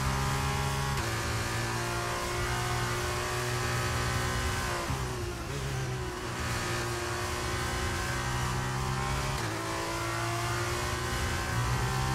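A Formula 1 race car engine in the video game F1 23 at Zandvoort drones steadily at high revs, with pitch dips as it shifts or brakes, then climbs back into a sustained whine.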